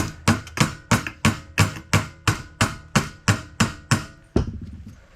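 About a dozen sharp hammer taps land in a steady, even rhythm, close and crisp, each ringing briefly before the next strike, while working on a JC Penney edger.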